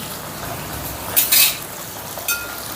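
Green peas frying in hot oil give a steady soft sizzle, with a few brief scraping and stirring clinks from a utensil against the pan, close by and without talk.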